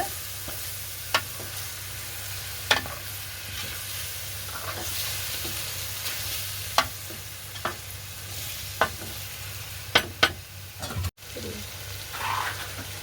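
Prawns are stir-fried in a yogurt masala over a steady, close sizzle, with a spoon clacking sharply against the pan every second or two as the pieces are tossed.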